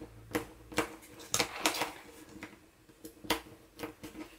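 Paper edges being folded over around a small plastic slide frame, heard as a series of crisp, close creases and taps at an irregular rhythm, each sharp crackle standing alone with brief quiet gaps.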